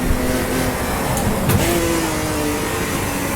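Race car engine at Bathurst in Automobilista 2, a steady loud drone with tonal harmonics that rise and shift through gear changes, a brief sharp burst midway, no talk.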